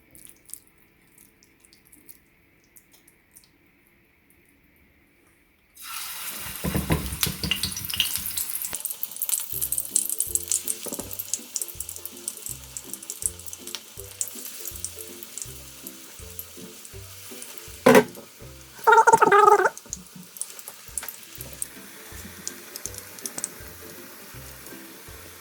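Tuna patties drop into hot extra virgin olive oil after several seconds of near silence, then fry with a steady, close crackling sizzle and occasional louder spatters, with no talking.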